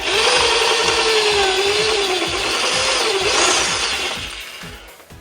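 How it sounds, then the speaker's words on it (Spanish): A power drill fitted with a depth stop bores a hole into wood, motor whining loud and close with a wavering pitch as it cuts, then winding down and stopping near the end. "lo único que nos queda es colocarla en la madera y hacer el taladro."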